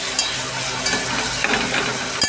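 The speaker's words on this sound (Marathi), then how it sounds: "मसाला पण यासोबत छान भाजला जाईल कांद्यासोबत." Ground masala paste frying with browned onions, a dense close sizzle with light scraping and stirring taps in the pan.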